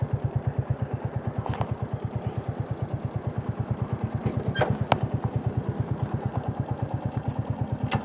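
A motorcycle engine on a Delhi to Udaipur ride in heavy rain thuds in a steady, even, close idling rhythm throughout, with a few brief clatters over it.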